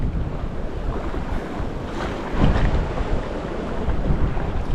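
Sea waves crash against a tall sea cliff at high tide, a steady, loud roar of surf with wind noise and a heavier surge midway.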